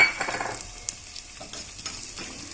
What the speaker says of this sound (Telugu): ఉల్లిగడ్డ వేయించు బంగారు రంగు వచ్చిందాక వేపుకోవాలి ఇంకో స్టవ్ మీద కొన్ని ధనియాలు వేయించుకుందాం